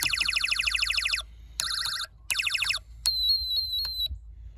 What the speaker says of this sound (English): every time you cover and remove your hand from the photoresistor, the sound changes